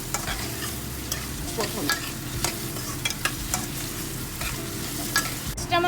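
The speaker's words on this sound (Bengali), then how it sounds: "এই জন্য আলু আর পেঁয়াজ আমি একসাথে ভেজে নিচ্ছি" Potatoes and onions fry together in a pan, sending up a dense, close sizzle marked by repeated scraping stirs; a single word is spoken briefly.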